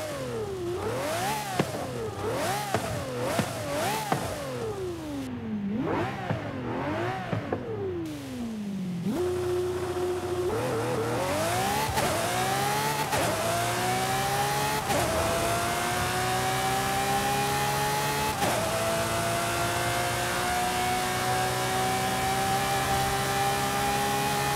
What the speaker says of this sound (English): our next car is this Lamborghini Murcielago SV. In all black. This one also has a V12